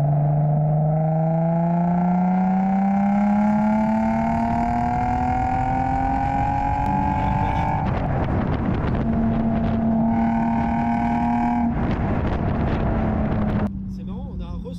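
A naturally aspirated V6 car engine accelerates hard through the gears, its droning note climbing steadily in pitch, dropping at each shift and rising again, heard from inside the cabin with wind noise and some talk.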